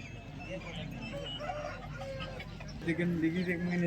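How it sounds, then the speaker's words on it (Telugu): Country chickens clucking at a Sunday poultry market in Vijayawada, soft intermittent clucks amid market bustle and talk, growing a little louder near the end. "ఇవి వచ్చేసి ఒరుగు పిల్లలండి ఐదు ఉన్నాయి రెండు పెట్టలు మూడు పుంజులును"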